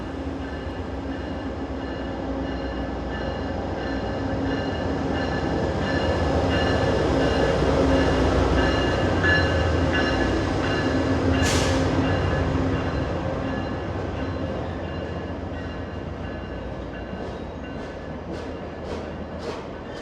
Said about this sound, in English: And another Via train.